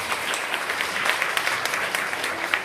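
An audience at a beginner sit-in concert breaks into steady applause, many hands clapping together at a moderate level, continuous throughout.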